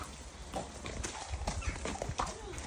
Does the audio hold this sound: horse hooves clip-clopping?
yes